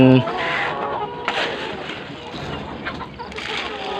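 Around 300 laying hens clucking together in a busy flock at morning feeding on a chicken farm, with scattered calls and some background noise throughout.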